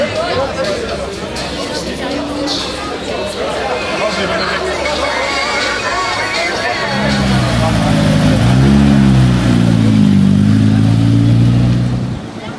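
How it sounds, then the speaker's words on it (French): Rally cars at the 43rd Lozère rally in Florac roar past loudly, engine revving rising and falling over crowd chatter, with a heavier, closer engine note swelling in the second half before easing off. "Bruit et fureur pour le 43e rallye de Lozère."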